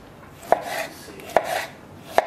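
A knife chops through a piece of onion on a cutting board, three sharp, close knocks evenly spaced about a second apart, with a soft scraping rustle between strikes.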